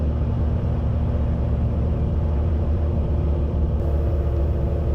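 Sleek gyrocopter with a hotrod engine in flight, a steady loud droning rumble of engine and rotor with no breaks, heard from on board.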